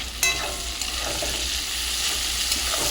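Onions frying in butter in a pan for a yogurt chicken curry, a steady close sizzle and crackle with stirring scrapes and occasional sharper pops, no talk.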